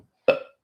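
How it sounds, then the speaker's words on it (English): A single loud burp erupts close to the mic, a short throaty blast that tails off within about a quarter second, with silence around it. "I burped."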